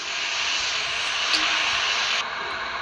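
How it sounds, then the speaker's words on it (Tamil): A jet pack in the Roblox game Mr Melon great school breakout roars with a continuous hissing thrust, loud and steady for a few seconds before cutting down abruptly. "நான் ஜெட் பேக்கை வச்சு பறந்துட்டு இருக்கேன்."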